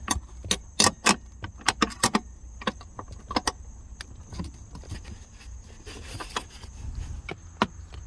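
A wrench works at a front seat bolt inside a Nissan 350Z, giving a run of sharp metallic clicks and clinks in irregular bursts, close and fairly loud against a quiet background.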